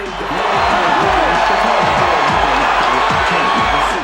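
A boxing arena crowd roars loudly and continuously after a first-round knockdown, a dense wall of cheering and shouting that rises and holds throughout.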